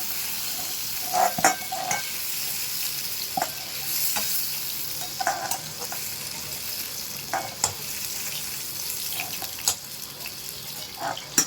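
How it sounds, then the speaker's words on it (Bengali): Green banana, potato and eggplant fry lightly in oil, giving a steady close sizzle broken by repeated clinks and scrapes of stirring, with no voices. "কাঁচকলা আলু বেগুন ভাজা হয়ে গেছে হালকা করে ভেজেছি আমি"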